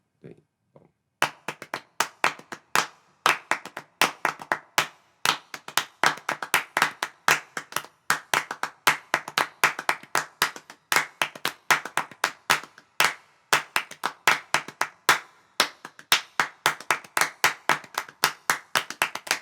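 Two or more people clap a rhythmic tune in steady, interlocking patterns. The claps are sharp, close and dry, and they continue without a break for nearly twenty seconds after a few soft taps at the start.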